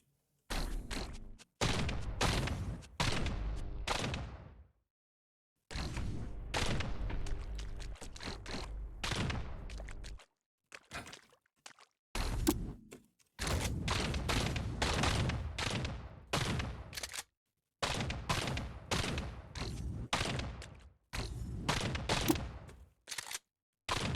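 A shotgun fires in the roguelike video game Caves of Qud: loud, booming blasts in quick volleys and clusters, broken by short silences.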